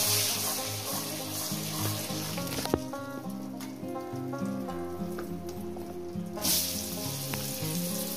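Potatoes frying in hot oil with salt and turmeric, a loud, steady crackling sizzle that fills the whole stretch with dense popping and no talk.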